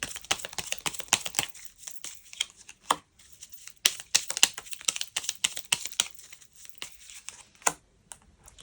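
Tarot cards being drawn and shuffled during a reading, giving a string of crisp papery flicks, slides and crinkles that come in quick irregular bursts with short pauses between them, close and fairly quiet, with no voice.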